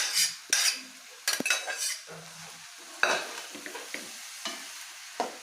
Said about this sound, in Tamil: இப்போ இந்த மசாலா கூட வேக வச்ச காய்கறியை எல்லாம் போட்டு கலக்க போகிறோம்